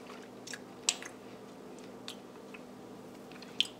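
Someone chews and tastes a mouthful of pork and sausage chili, with a few soft, sparse mouth clicks and smacks close by over quiet room hum, no talking.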